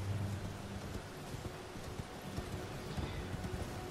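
A horse trots in Elden Ring with a steady rhythmic clip-clop of hooves over a continuous windy outdoor ambience, moderately close and fairly quiet.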